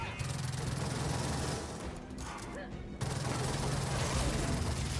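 SMG gunfire in the video game Gears of War 4 comes as rapid, loud automatic bursts, easing briefly around the middle before resuming with dense chattering shots to the end.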